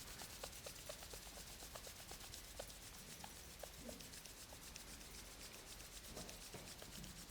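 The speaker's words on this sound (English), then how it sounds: "Slowly we rub our hands together until they get hot." Two hands rubbed together slowly to build heat, giving a soft, steady, faint dry friction hiss with small irregular ticks throughout.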